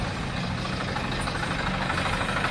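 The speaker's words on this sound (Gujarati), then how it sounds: "તો હાલો દેવાભાઈ ફૂકી ગયા છે ટ્રેક્ટર લઈ." A tractor engine idles nearby outdoors, a steady low rumbling chug that holds an even level with no voices.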